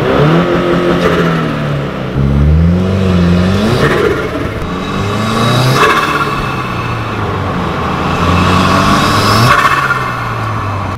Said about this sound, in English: Should we see if we get some turbo flare?